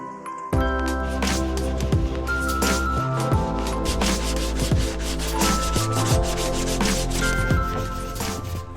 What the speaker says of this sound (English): So I'm kind of lightly sanding through our guide coat into the primer, cross hatching this way, then this way.